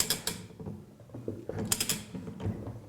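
A ratchet wrench tightens the nut on a Flotronic one-nut pump, giving short bursts of close, crisp metallic clicking with brief pauses between strokes.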